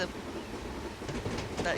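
Steam locomotive pulling away in Train Simulator, a soft rolling rumble with faint clanks and hissing building toward the end, fairly quiet.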